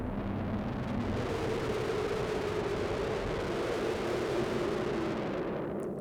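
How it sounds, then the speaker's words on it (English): A Norse Whispers sound-design patch from the Voices of War library run through distortion, producing a dense, roaring wash of noisy distorted texture that holds steady and loud throughout. "Basically, it's the Norse Whispers patch just put through distortion."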